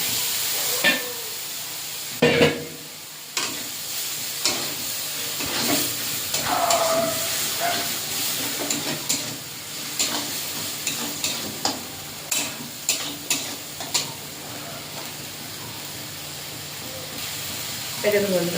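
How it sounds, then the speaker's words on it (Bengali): Cumin paste and spices are being stir-fried in oil in a pan, giving a steady close sizzle and hiss broken by frequent scraping and stirring clicks from a spoon. "দিয়ে মশলাটা ভালো করে কষে নেব।"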